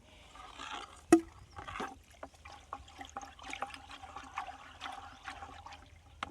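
Liquid pesticide mixture for cucumber plants sloshes and swirls in a bucket as it is stirred, with a sharp knock near the start and repeated soft splashy strokes.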